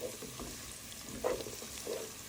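Two large onions fry in oil in a home kitchen pan, making a soft, low sizzle broken by a couple of brief stirring scrapes.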